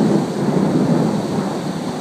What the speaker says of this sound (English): a lovely thunderstorm whipping in here at the little dog farm